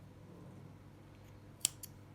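A single quick snip of scissors cutting crochet yarn, close and crisp, followed by a faint second click in an otherwise quiet room.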